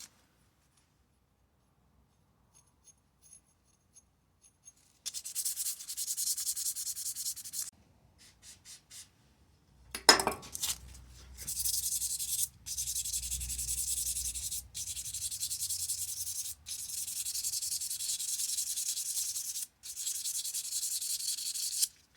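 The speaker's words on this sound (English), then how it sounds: "so we've got 600 grit, and I'm just literally lightly going over." Hand sanding a Mac piston with 600 grit sandpaper gives close, steady rubbing strokes in repeated bursts separated by short pauses, with a brief handling clatter partway through.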